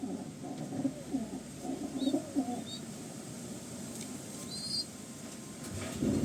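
A young pigeon with yellow head feathers coos softly in a steady low murmur, close but quiet, with a few faint high chirps from other birds in the background.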